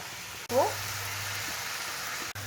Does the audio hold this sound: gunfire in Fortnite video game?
no